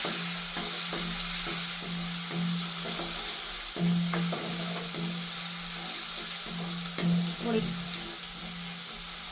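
Onions sauté in oil with cumin, turmeric and asafoetida, a steady crackling sizzle broken by regular scraping strokes of a spoon stirring the pan over a low constant hum.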